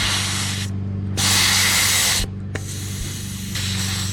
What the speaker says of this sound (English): I'm going to have to let the air out of the tire here because I just can't get this thing shoved in any further. So we will remove the valve stem.